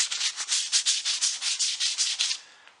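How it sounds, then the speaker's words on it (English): Sandpaper is rubbed back and forth on a tapered wooden leg of a mid-century modern chair. About a dozen quick, evenly spaced rasping strokes sound up close and then stop. "what we're going to do is just sand this leg"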